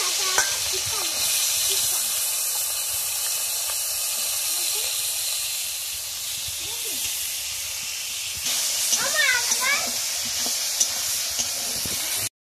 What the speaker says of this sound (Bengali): এবারে এগুলোকে তেল দিয়ে ভাজা হবে।